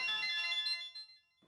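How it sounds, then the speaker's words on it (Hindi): A mobile phone ringtone rings for an incoming call from a wife in a Hindi-dubbed Tamil romantic film, a bright electronic melody heard close and alone before it cuts off. "बायकोचा फोन."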